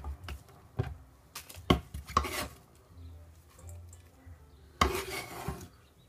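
A knife cuts an onion on a cutting board in a kitchen, a few sharp separate chops and knocks spaced irregularly, close and fairly quiet.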